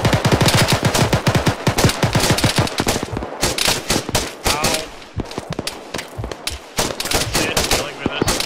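Loud, close gunfire from the video game Arma 3, with rapid automatic bursts and dense overlapping shots that keep going and briefly slacken, with voices heard faintly between volleys.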